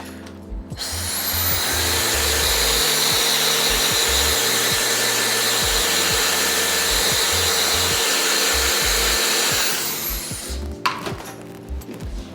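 A hair dryer blows steadily and loudly for about eight seconds while hair is styled with the Air Touch highlighting technique, with rhythmic low thumps and handling noises beneath the airflow, then it winds down.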